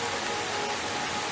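Steady rain pours down in a dense, continuous hiss with no breaks or distinct drops, filling the whole moment evenly with no voices.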